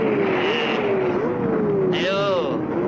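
A 1980s motorcycle engine drones steadily with pitch rising and falling as it revs, loud and close, under excited voices.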